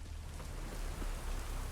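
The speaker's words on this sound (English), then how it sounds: "Looks like rain." Steady, enveloping rain falls in The Witcher 3 video game, a constant close hiss of drops with low rumbling beneath and no voices.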